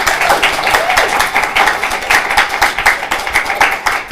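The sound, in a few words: audience applause after a presentation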